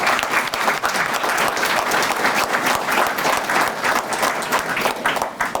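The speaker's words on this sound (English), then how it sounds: "I think that deserves a round of applause." Sustained, dense applause from a large audience at the Cavs-hosted 1967 Cleveland Summit commemoration, loud and steady throughout with no talk over it.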